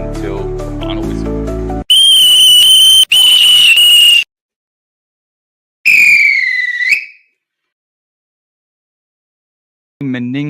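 Loud, shrill final whistle blasts in bursts with silent gaps between them, following a short musical opening and ending in a final brief tone.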